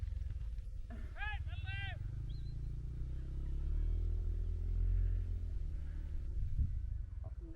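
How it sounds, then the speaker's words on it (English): A sheep bleats on a hillside at Smearsett Scar, giving a couple of short wavering calls near the start over steady, heavy wind rumble outdoors. "That's the naughty sheep, that is."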